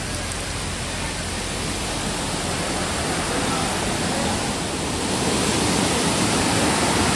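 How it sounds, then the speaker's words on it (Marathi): Somtirth waterfall pours from a considerable height near Niwendi village by Malgund and Ganpatipule, a continuous dense broadband roar of falling water, steady and loud throughout with no other sounds standing out. "तर समोरच बघताय हा बऱ्यापैकी उंचावरून कोसळला सोमतीर्थ धबधबा."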